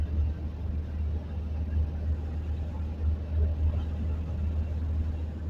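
A camping-car travelling a daytime road through the hills of the Drôme, a steady low engine and tyre rumble droning evenly from inside the cabin throughout.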